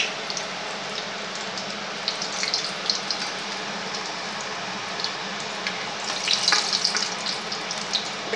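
Tomato pooris deep-fry in hot oil, one after another, giving a constant close bubbling sizzle with brighter crackling bursts toward the end.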